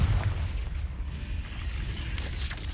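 Confringo fire spell blasting in Hogwarts Legacy, a deep rumbling explosion that stays loud and dense for the whole moment, with a brief crackling burst near the start and no voices.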